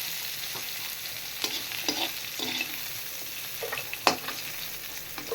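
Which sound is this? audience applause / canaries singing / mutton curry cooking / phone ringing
mutton curry cooking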